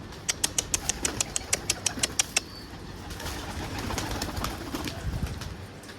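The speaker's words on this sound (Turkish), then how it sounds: "benim çatıda kuşların mı var? Kanat sesi geliyor." Birds on a roof make a rapid burst of wing flaps that clatters close by, about a dozen sharp beats, then fades into softer rustling and faint cooing with low background rumble.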